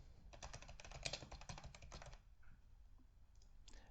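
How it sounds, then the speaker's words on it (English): Fingers type an email address on a computer keyboard, a quick, quiet run of close key clicks for about two seconds, followed by a few sparse taps. "Tembi will enter in her email address"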